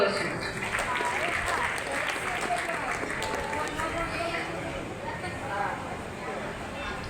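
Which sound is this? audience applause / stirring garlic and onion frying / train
audience applause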